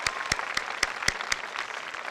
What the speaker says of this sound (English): Now you may give them a round of applause.